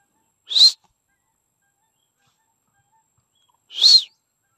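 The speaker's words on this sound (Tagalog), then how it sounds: "Ay, may ibon." Two short, bright bird calls separated by about three seconds of silence, each a quick rising-falling chirp, heard at moderate distance near a farm with no talking.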